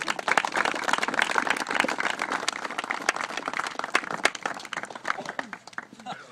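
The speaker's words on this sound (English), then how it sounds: "give him a big round of applause" Audience applause and cheering for Brad Sarver at a Vemma event in Spokane: a dense, sustained wash of many hands clapping with scattered sharper claps and crowd voices, steady throughout.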